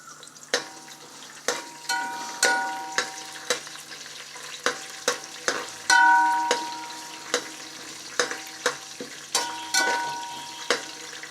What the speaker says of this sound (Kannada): ಸ್ವಲ್ಪ ಉದ್ದಿನಬೇಳೆ ಮತ್ತು ಕಡಲೆಬೇಳೆ ಹಾಕೋತೀನಿ